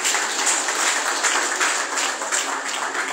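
Steady applause at a Yoruba Nation rally in Ilorin, continuous and fairly loud, even clapping from a crowd with no gaps for about three seconds.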